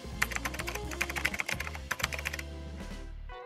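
Close, crisp typing on a System76 Launch mechanical keyboard connected to a System76 Oryx Pro laptop, a rapid run of clicky keystrokes over a steady low hum that ends with a few slower presses.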